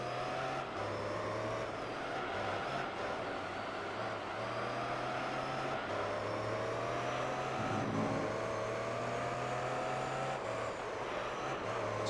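Pagani Zonda race car engine in Gran Turismo 3 droning steadily throughout at a constant loud level, with small pitch shifts as the car changes speed and gears.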